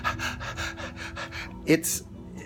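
A voice imitates rapid, panicked breathing during a panic attack: a fast run of short, quick pants, then a sharp gasp and a high breathy exhale.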